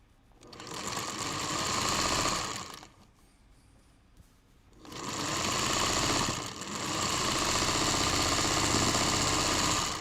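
A 1951 Singer 301 sewing machine runs in close, loud sustained stretches of rapid mechanical chatter, stopping for about two seconds before starting up again and stitching steadily to the end.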